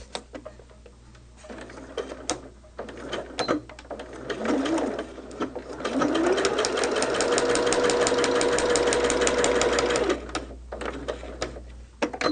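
A sewing machine stitches fabric in short bursts at first, then in a long, steady run of rapid mechanical ticking and whirring for several seconds before stopping, with quiet handling sounds around it.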